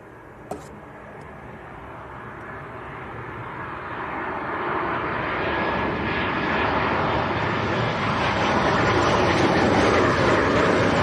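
A jet aircraft on final approach to Leeds Bradford Airport, a broad engine roar that starts faint and grows steadily louder as it nears, with no talk.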